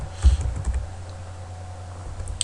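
Values being typed on a computer keyboard into a LibreOffice spreadsheet, a few quick key taps near the start and then light, sparse clicking over a steady low hum, with no voices.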